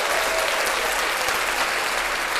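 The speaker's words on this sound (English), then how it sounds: "Give her a nice round of applause" An audience gives a podcast guest a steady, dense round of clapping, close and loud and unbroken for the whole stretch, with no talking over it.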